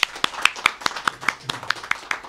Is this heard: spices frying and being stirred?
no